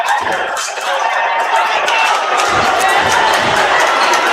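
Basketball crowd at the NorthWest Classic cheering and shouting in a steady, loud roar that swells and holds without pause, with scattered voices rising out of the din.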